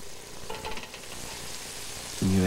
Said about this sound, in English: you deglaze with your dry vermouth or white wine